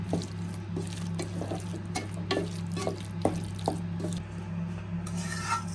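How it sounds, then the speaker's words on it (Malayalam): A coconut mixture for Kerala-style kootu curry cooks on a low flame, giving a quiet bubbling simmer with light, irregular stirring clicks and small watery pops. There is no talking. "നമുക്കിതൊന്ന് ചെറിയ തീയിലിട്ട് നമ്മുടെ തേങ്ങയുടെ പച്ചമണമൊക്കെ മാറ്റിയെടുക്കാം."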